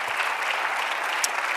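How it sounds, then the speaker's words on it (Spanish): A church congregation applauds during a sermon, a steady wash of many hands clapping at a moderate distance, even and unbroken for the whole stretch. "Dale un aplauso al Señor."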